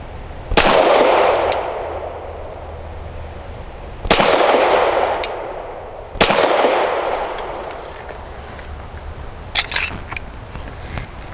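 Three loud Canik SFx Rival S pistol shots are spaced a few seconds apart, each a sharp crack trailing into reverberation, followed by light clicks and rattles of handling.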